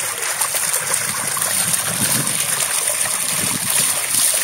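A SongYi 880GPH submersible pump sprays water in a bucket, giving a steady, close splashing trickle that continues without a break.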